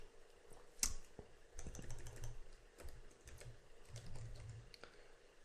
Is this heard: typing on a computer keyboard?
yes